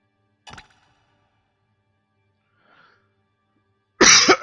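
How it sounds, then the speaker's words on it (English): A single loud, close cough bursts out near the end after a short muffled one at the start, with near silence between. "Sorry about my coughs."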